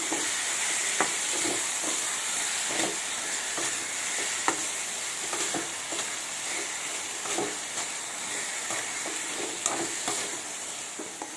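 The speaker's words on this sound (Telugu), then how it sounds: "మూత దాన్ని సిమ్లో పెట్టి వేయించుకోవాలి ఫ్రెండ్స్ మధ్యలో మధ్యలో కలపెడుతున్నారు ఫ్రెండ్స్" Bitter gourd fries in a pan on low heat, giving a loud, continuous sizzle and hiss with a steady run of scraping stirring strokes throughout.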